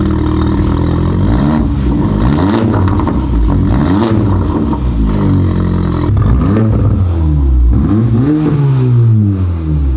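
A 2020 Porsche Macan four-cylinder turbo with a muffler delete revs repeatedly, rising and falling in pitch with throaty exhaust roar, loud and close, no talking.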